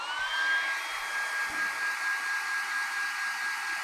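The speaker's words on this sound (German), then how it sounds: "wird das jetzt mit dem Föhn leicht angetrocknet" A hair dryer runs steadily throughout, a continuous close whirring hiss with a high whine, used to dry paint on a miniature figure.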